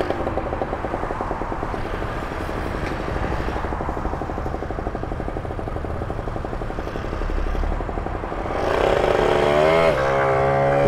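Motobécane AV76 moped engine idling steadily with a dense, buzzy two-stroke putter throughout, running a little rich; near and loud, rising to a brief rev toward the end.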